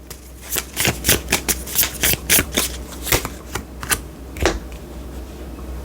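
Tarot cards shuffled by hand during a reading, heard as a run of crisp, rapid riffling bursts in a steady rhythm. They are close and clear, then thin out to a few final slaps.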